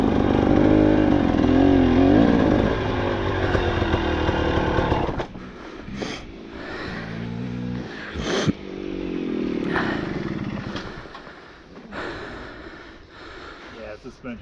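A nearly new KTM 300XC TBI two-stroke dirt bike engine runs loud and close, revving with rising and falling pitch for several seconds, then settles to a lower idle as people talk over it.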